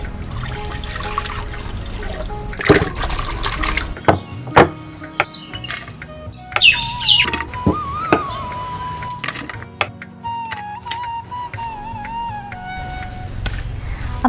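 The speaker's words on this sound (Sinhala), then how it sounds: "දැන් අපි වතුර ටිකක් දාලා මේ ටික හොදගමු." Onion, garlic, rampe and curry leaves being washed in water, with soft trickling and sloshing splashes that come and go, plus a few sharper clatters, under intermittent voices and faint chirps.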